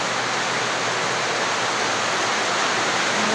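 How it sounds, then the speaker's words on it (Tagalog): Steady broadband hiss of rain beginning to fall outdoors, continuous and fairly loud throughout with no voices. "Yan, umulan na guys."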